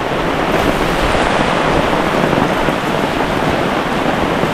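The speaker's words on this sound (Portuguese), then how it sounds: "Agora tá ventando, menino." Strong wind roars continuously across the microphone at a riverside campsite, a dense, steady rush with no pauses and no one speaking.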